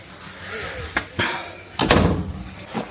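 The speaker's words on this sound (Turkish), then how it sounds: "Kapatalım kız bu kapıyı." An indoor door swings shut with a sharp thump and short rattle, followed by a few softer knocks and clunks nearby, with a brief voice just before.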